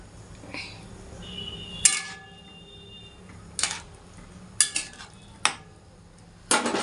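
Cowpea pods being stirred in a pan, with a few sharp scraping clinks of the spoon against metal at irregular intervals over a low background hum.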